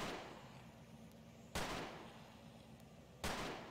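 Gunfire in the video game Avatar Raiders: two sharp, loud shots about a second and a half apart, each cutting off into a quieter hiss, with no talk.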